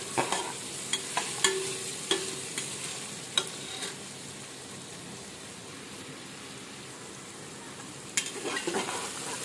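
Beetroot bhaaji being stirred in a hot pan, a soft continuous sizzle with a handful of sharp spatula scrapes and taps in the first few seconds and again near the end, no talking.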